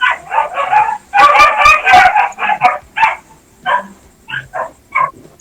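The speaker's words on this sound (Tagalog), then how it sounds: "Ay, ngayong aso." Dog barking in a repeated, uneven series of sharp yips and barks, fairly close and loud, with a few brief pauses between bursts and no talk over it.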